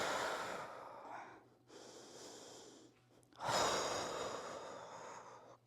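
A person holding a warrior three yoga pose breathes audibly, with a long exhale, a short pause, another breath, then a stronger, louder exhale, close and alone.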